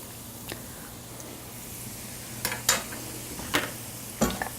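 Fresh homemade ravioli being stirred in a pot, with several soft scraping utensil strokes against the pot, irregular and moderately close, over a faint steady background.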